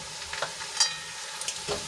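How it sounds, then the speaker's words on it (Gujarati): Spice masala of turmeric, coriander-cumin powder and garam masala is stirred and sautéed in a pan, giving soft scraping strokes over a faint, steady sizzle, close and quiet. "બધા મસાલા સરસ રીતે મિક્સ કરી લઈશું મસાલા સરસ રીતે સંતળાઈ જાય"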